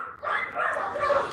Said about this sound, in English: That red brindle dog, that red brindle dog right there